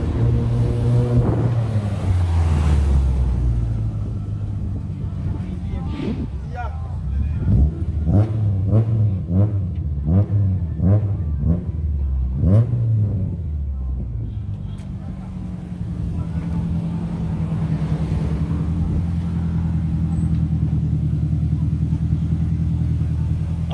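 Honda Integra engine revving and accelerating, with rising and falling harmonic tones through the middle and a steady low rumble before and after, loud and close, alongside some talk.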